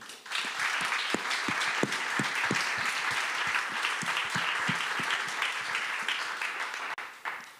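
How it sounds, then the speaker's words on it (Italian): Steady applause from a sizable crowd at an event in Italy, dense clapping with some sharper individual claps standing out, sustained throughout. "un grande conoscitore di calcio e di uomini per i quali chiederei un applauso che è Gino Corioni."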